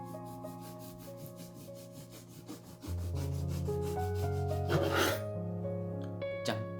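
A knife saws through a thick slice of soft yudane bread in rapid, even back-and-forth strokes, up close, with a steady low hum underneath and a sharper rasp near the end.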